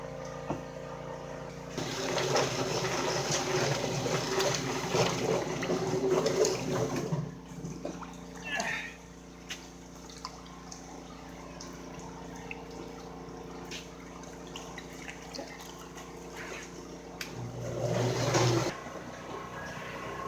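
Processed Cornish chickens are rinsed in a tub of water, with sloshing, splashing and trickling up close, a busier stretch early on, then quieter dripping before another burst of splashing.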